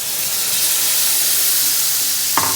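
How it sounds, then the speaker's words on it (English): Shrimp hit a hot frying pan with garlic and sizzle loudly, a dense continuous hiss close up, with a brief scrape near the end. "Add in my shrimp."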